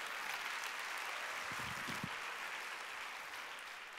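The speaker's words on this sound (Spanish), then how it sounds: "Dale un aplauso a Dios si creen eso." A church congregation applauds during a Spanish-language sermon, a steady wash of clapping from many hands that stays faint and distant for the full span.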